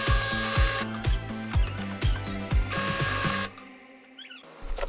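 A small drill bit is run through a wooden lantern piece, giving a rhythmic mechanical whirring with repeated low thumps for about three and a half seconds before the motor cuts off and the sound drops away.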